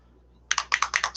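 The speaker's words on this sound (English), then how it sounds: "The clicking sound you hear is a ball bearing" A ball bearing rattling inside a bottle of matte varnish as it is shaken for miniature painting, about seven quick, crisp clicks in a fast rhythm, close and alone.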